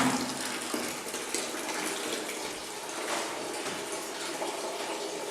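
Homemade wine being pumped down into a container, a continuous rushing, gushing liquid flow that stays steady and fairly soft throughout, no talking.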